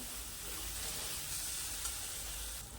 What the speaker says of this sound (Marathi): बघा आपले कांदा आणि टोमॅटो व्यवस्थित परतत आले काय बघा